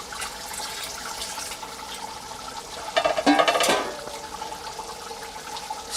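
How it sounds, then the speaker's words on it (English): Water poured into a pan of simmering lamb curry, a brief bubbling, splashing burst close by over a quiet kitchen background. "Add a little bit more water."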